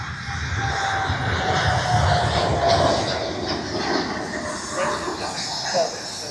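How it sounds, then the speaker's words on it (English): A large British Airways airliner rolls down the runway at Manchester Airport, its jet engines giving a steady, loud broadband roar with a faint whine, heard from the visitor park and sustained throughout. "So there's a big British Airways plane coming now down the runway."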